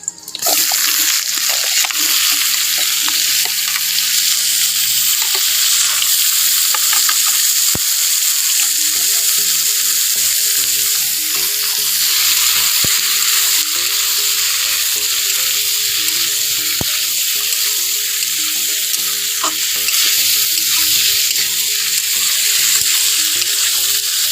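Sliced cucumber hitting a hot frying pan with shrimp, a loud, steady sizzle and crackle of frying that holds for the whole stretch, with faint stirring scrapes and no voices.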